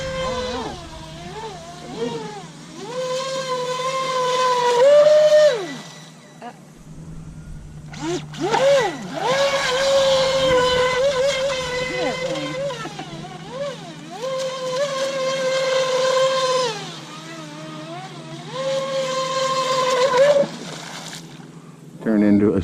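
A modified Feilun FT012 RC speedboat running on water, its small electric motor whining in rising and falling pitch bursts as it accelerates and turns, with splashing, near and fairly loud, while people talk.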